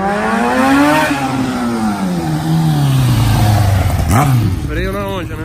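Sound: track motorcycle without brakes being revved

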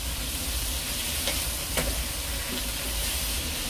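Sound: stir-frying bulgogi in a pan

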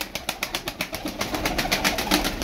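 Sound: tumbler pigeons cooing

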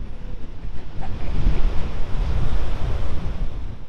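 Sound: Pacific Ocean waves at Oceanside pier

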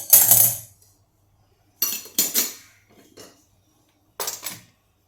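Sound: heavy-bottomed kadhai placed on a gas stove

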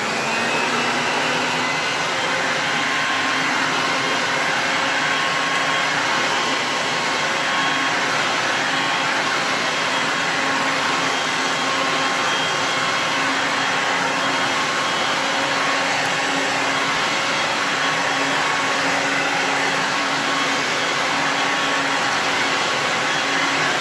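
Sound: Shetland Sweeper stick vacuum cleaner running

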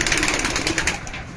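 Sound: pigeons cooing

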